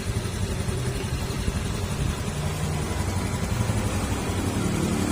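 A motorcycle with a repaired CVT idles steadily at close range, a low, even rumble under broadband noise with no talking.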